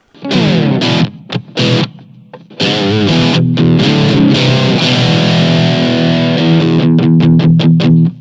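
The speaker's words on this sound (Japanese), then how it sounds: "じゃあ歪ませますよ。 OD1 ホールリバーブにしておきますね。" Electric guitar through a Blackstar ID:CORE V4 amp on OD1 overdrive with spacious hall reverb, choppy strummed chords giving way to a sustained ringing passage, loud and close.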